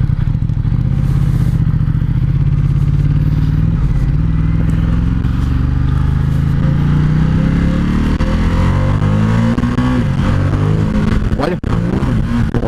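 A Ducati X Diavel L-twin motorcycle engine pulls hard under acceleration, its loud, close rumble climbing steadily in pitch through the gears with a brief dip near the end, and no talk over it.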